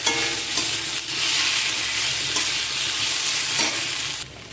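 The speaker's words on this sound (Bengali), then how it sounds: "সব মশলা সুন্দর করে ভাজা হয়ে গেছে" Spices with turmeric and chili powder sizzle and fry steadily in a hot pan for fish curry, with a spoon scraping and stirring through them in a continuous, close, fairly loud crackle.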